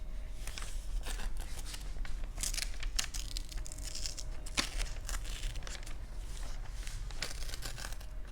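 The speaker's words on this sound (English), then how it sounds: "need another sheet. Let's see if I can rip this off" Continuous close crinkling and tearing of a sheet of paper being ripped off a pad while mixing paint colors, dense papery rustles with sharp crackles throughout, no voices.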